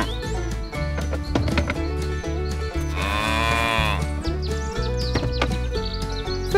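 A cow moos in an animated cartoon, a drawn-out low bellow rising over steady background music, with a few bird-like chirps scattered around.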